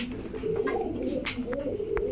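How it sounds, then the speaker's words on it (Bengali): Pigeons coo at a pigeon market where racer and highflyer birds are sold, a steady overlapping murmur of soft cooing from several birds close by, with brief sharper calls and little talk. "তো এই হচ্ছে কবুতর"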